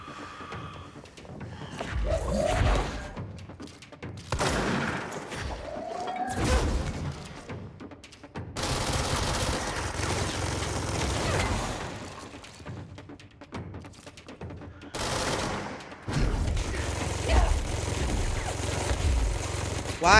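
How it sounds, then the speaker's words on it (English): Rapid Gatling-style gunfire in the action game Control: loud bursts of shooting with crashing, shattering impacts, coming in several waves across twenty seconds, with brief gaps between them. "I know the sound of a Gatling gun when I hear it. Or one of those kinds of rapid fire."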